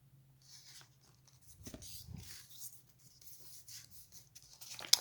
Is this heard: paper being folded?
yes